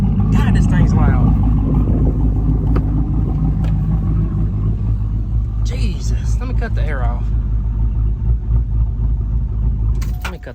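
A truck engine idles loudly and steadily up close with a deep rumble throughout, while someone talks over it, then it winds down at the end.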